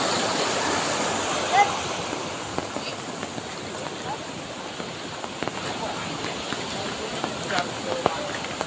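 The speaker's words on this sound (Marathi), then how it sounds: "पाण्याचा आवाज बघा" Rushing water pours steadily through a roadside culvert during heavy monsoon rain, a broad continuous wash at moderate level with a few small knocks and splashes, and faint talk at times.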